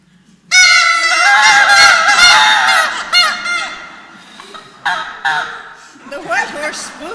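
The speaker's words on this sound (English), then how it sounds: "he first sent a flock of noisome, pooping geese" A flock of geese honks loudly and continuously up close, overlapping calls rising and falling, then breaking into shorter bursts.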